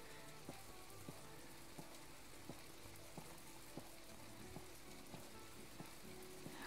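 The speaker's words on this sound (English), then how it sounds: "It's really heavy rain and thunderstorm." Heavy rain and a thunderstorm in the video game My Time At Portia make a steady, dense hiss with light ticks at regular intervals throughout. No one speaks.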